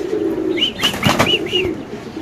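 Pigeons of a satin breed, kept for sale, cooing close by, a handful of short rising and falling coos over a low background hum, with a brief soft rustle in the middle.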